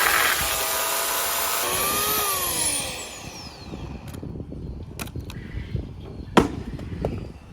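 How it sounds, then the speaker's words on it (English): A chainsaw whines loudly, its pitch shifting as it cuts, then cuts off, leaving a few sharp knocks and clatters. "We got a chainsaw today too to cut."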